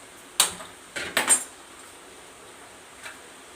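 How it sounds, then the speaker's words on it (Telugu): A metal kadai is set down on a stove while making chicken curry: one sharp clank, then a quick cluster of metallic knocks, followed by quiet and a faint final tap. "కడాయి పెట్టుకొని"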